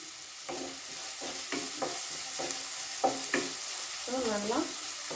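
Ingredients sauté in hot oil for street-style fried rice, with a steady sizzle and repeated clinks and scrapes of stirring; near the end, a squeaky scraping sound stands out.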